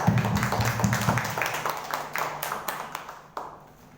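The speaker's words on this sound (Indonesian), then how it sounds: "Tepuk tangan untuk pemateri kita." A seminar audience claps for a presenter, uneven scattered hand claps over a low murmur that taper off and fade out within a few seconds.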